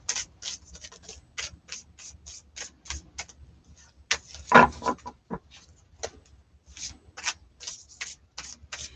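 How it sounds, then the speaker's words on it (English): Tarot cards are shuffled by hand at close range, giving quiet, crisp snapping and ticking bursts in irregular runs, with a louder riffle in the middle and brief pauses in between. "Get the shuffle. Every day I'm shuffling."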